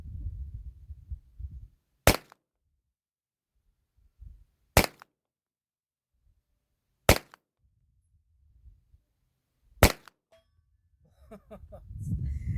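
Four loud, sharp gunshots ring out at a range with targets at 100 yards. They are spaced a few seconds apart, with near silence between them and faint low rumble at the start and end.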